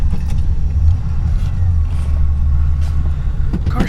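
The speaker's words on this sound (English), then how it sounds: "Car starts up nice, cold. Exhaust is nice and quiet." A 1969 Lincoln Mark III running cold after start-up, its quiet exhaust giving a loud, close, steady low rumble without pause or voices.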